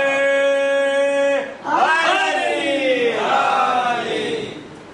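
At a Shab-e-Baraat religious gathering, a single voice holds a long, ringing call, and a crowd answers with a loud, massed chant of religious slogans that swells and carries on for several seconds.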